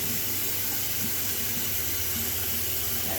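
Water pours steadily from a tap, rinsing down a vanity sink as a continuous, fairly loud broadband rush that holds for the whole stretch with no talking.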